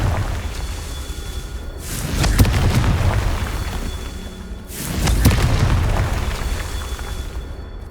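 Confringo blasting spells in the Hogwarts Legacy video game: two loud, close explosive booms a few seconds apart, each a sharp burst trailing into rumble, over steady ambient game sound.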